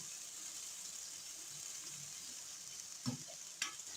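Finely chopped onions, four medium ones, frying in cooking oil in a pan: a faint, steady sizzle throughout, with two brief clinks of a stirring utensil near the end.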